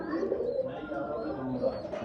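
Cooing from a big-headed Bankay pigeon kept by a pigeon fancier, a steady low throaty murmur running close by through the whole stretch, with a faint voice in the background.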